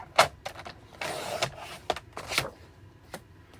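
Cardstock is cut on a Stampin' Cut and Pierce paper trimmer, heard as a few sharp close clicks and a short scraping slide of the blade, with quiet handling noise in between.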